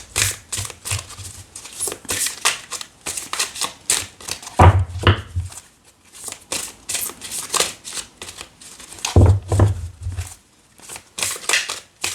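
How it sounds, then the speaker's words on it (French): Large oracle cards are shuffled by hand in repeated riffling, flapping bursts, close and crisp, with a couple of heavier thumps as the deck is squared. "Ces cartes sont énormes, donc pour les mélanger, je ne te raconte pas."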